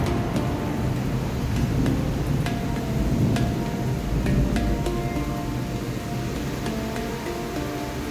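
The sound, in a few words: thunder rumbling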